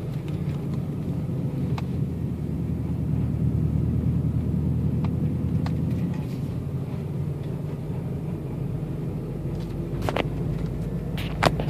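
Low steady engine rumble of a manual-transmission car accelerating in second gear, droning continuously and fairly close with a few faint clicks and no talk.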